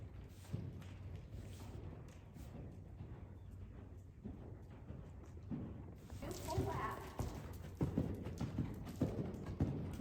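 Polly the horse's hooves thud in a steady, muffled clip-clop rhythm going around a lap in an arena, faint and under people talking.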